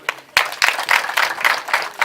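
An audience at a school key-handover ceremony claps in short bursts, the applause swelling in waves after a brief quiet opening, fairly close and without talk.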